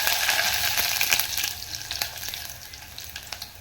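Dried red chillies sizzle in hot oil already holding browned garlic and cumin, a steady close frying hiss with scattered crackles and pops, with no voices.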